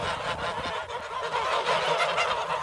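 A flock of geese honking continuously, a dense, busy chorus of overlapping calls close by with no pauses.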